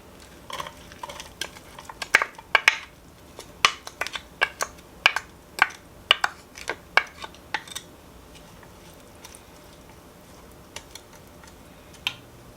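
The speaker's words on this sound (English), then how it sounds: "The oil is heated up now, so I'm going to add my onion." Chopped onion goes into hot olive oil in a pan for pasta e fagioli, giving a run of sharp clicks, taps and light crackles as it is stirred. The bursts are busiest early, then thin to a few isolated taps.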